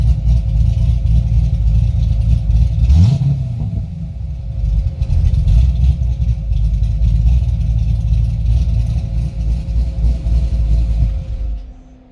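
A cammed LS3 C6 Corvette with Kooks 2-inch mufflers and a Kooks X-pipe runs with the mufflers open, a loud, close, deep choppy rumble with a quick rev early on before settling back to a rough idle.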